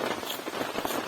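Rain falls steadily on a mountain campsite on Gunung Gede during a heavy downpour at night, a dense close patter over a brief moment.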